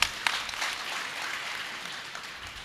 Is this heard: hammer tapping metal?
no